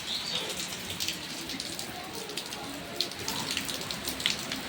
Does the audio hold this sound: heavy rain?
yes